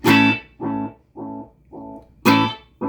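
A guitar signal runs through a Catalinbread Montavillian Echo delay pedal, one bright plucked attack followed by a row of evenly spaced repeats fading in level, then a fresh strike starts the cycle again, loud and close with no talk.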